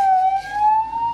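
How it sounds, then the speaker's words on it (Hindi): An ambulance siren sounds on a mountain road near Shimla, heard from inside a car: a loud, close, pure wailing tone that slowly rises in pitch over about a second. "एम्बुलेंस आ रही है"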